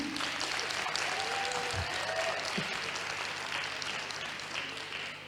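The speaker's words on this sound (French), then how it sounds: "applaudissez qu'on vous voit" An audience at a student event on tourism and leisure careers applauds in a steady wash of clapping, with a brief voice rising through the middle before the sound slowly tapers off.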